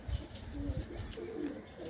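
A white-eyed pigeon gives a short, soft cooing call, its low warbling tones repeating over a quiet, rumbling background.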